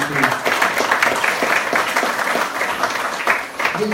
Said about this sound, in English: Let's give a clap for him.